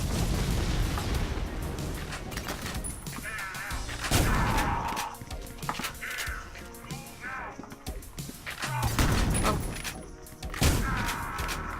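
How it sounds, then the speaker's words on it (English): Gunfire in the first-person shooter Ion Maiden, with repeated loud sharp shots and thudding impacts in irregular bursts over a dense bed of game sound effects. "Now let's go shoot some people in the toilet"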